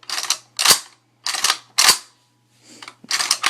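The bolt of a WASR-10 rifle being cycled by hand: close, crisp metallic clacks in quick pairs, the action pulled back and released several times with short pauses, slides smooth and sharp.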